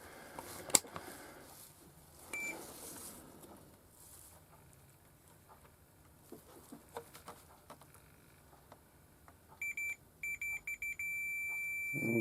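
A multimeter beeping during a continuity test on a Roberts CRD-19 clock DAB radio with a tuning fault. Faint handling and rustling come first, then several short beeps and a long sustained tone near the end.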